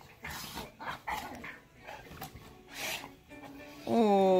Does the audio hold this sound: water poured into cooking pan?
no